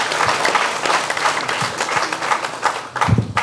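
Audience applause in a lively hall, a dense steady wash of many hands clapping throughout, with a few louder bursts near the end.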